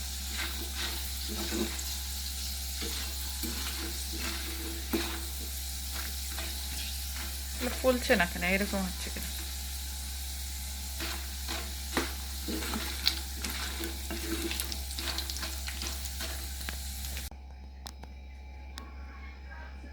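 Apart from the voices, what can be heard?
frying mughlai paratha in oil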